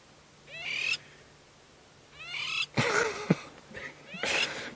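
A wild bird on a safari drive calls in several bursts of hooting, squeaky notes with pauses between, fairly close and clear over quiet background.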